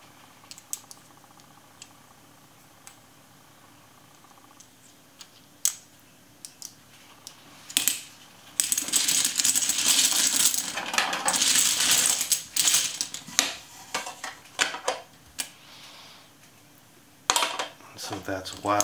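Plastic Rummikub tiles from a retro tin clack and click as they are picked up and shuffled, scattered taps at first, then a dense rattling burst of tiles clattering together, close and crisp.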